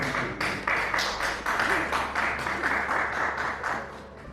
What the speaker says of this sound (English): Please let's welcome her with a round of applause.